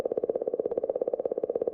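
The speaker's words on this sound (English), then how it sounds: "the 67P, that's what this one sounds like." Sonified recording of comet 67P: a rapid, regular pulsing warble, about a dozen throbs per second, steady and tonal with a hollow, clicking quality, heard alone at moderate loudness.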